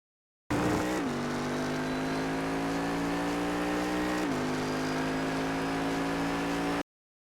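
A Cadillac CTS-V races at full throttle around the Navarra circuit in a racing game. The engine makes a loud, steady, close roar that climbs in pitch, with two clear gear shifts near the start and middle.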